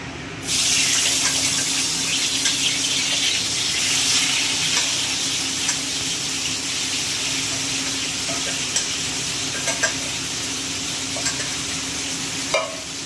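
Dried red chilli and nigella seeds sizzle steadily in hot oil as a tempering for a fish curry, a close, continuous bright crackle lasting throughout with a few faint clinks and stirring knocks.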